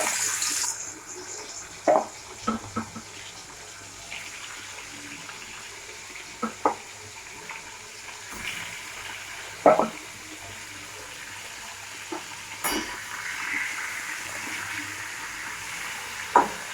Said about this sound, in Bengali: এক এক করে ভেজে নেবো, মাথাগুলো লাল লাল করে ভেজে নেবো।